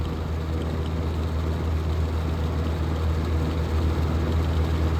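A vintage box fan, one of a Kmart K-223, Evenflow 2302 or Manning Bowman, runs on high speed at about 1500 RPM, making a loud, steady low whir and rushing air with no pauses or talk.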